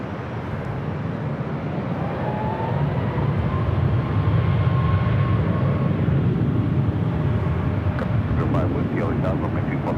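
A Boeing 737 MAX 9 jet on runway 24 left at LAX, bound for Mexico City, gives a loud, steady broadband roar that swells and holds, with faint voices underneath.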